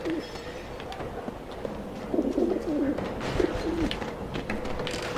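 Pigeons coo in a caged coop within the game Alice: Madness Returns, soft repeated low burbling calls over a steady ambient bed, growing a bit louder midway with several overlapping coos.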